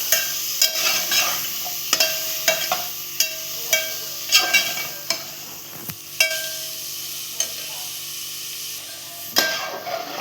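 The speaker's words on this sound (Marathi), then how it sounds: "आता कोलंबी आपण परतवून घेऊया त्यात" Prawns sautéing in a pan for a spicy Marathi prawn rice, loud sizzling with repeated sharp scrapes and knocks of a spoon stirring, close up and without voices.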